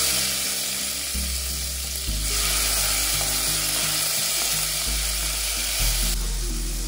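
Chopped vegetables, tomato and onion among them, sizzle loudly in smoking-hot mustard oil, a steady close-up frying hiss broken by occasional stirring scrapes and a low background hum.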